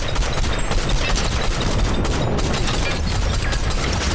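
Dense, continuous gunfire in the video game Fortnite, a loud sustained barrage of rapid shots and bursts with booming impacts filling the whole stretch, no talking.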